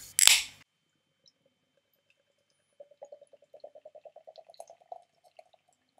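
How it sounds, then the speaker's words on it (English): Theakston Barista Stout, a dark espresso stout real ale, poured into a traditional glass: a short sharp burst at the start, then after a pause a run of quick, close glugging pulses that fade out near the end, with no talking. "that is not a bad pour at all, which is rare for me"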